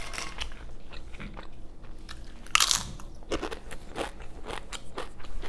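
Loud, close crunching bites and chewing of a crunchy breakfast sandwich with sauce, with one sharp crackling bite standing out amid steady mastication and no talk.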